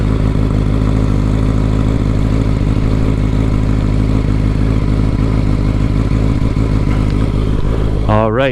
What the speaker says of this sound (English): And I think we can start it up, see how it sounds, and take it for a nice little spin